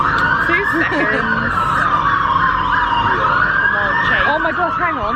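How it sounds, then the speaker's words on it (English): Several police sirens wail at once, loud and continuous, their pitches rising and falling over one another. "There's like a million police car sirens."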